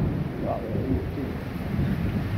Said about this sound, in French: Je vais vous laisser un orage violent, ligne orageuse, très électrique.